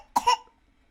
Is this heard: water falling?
no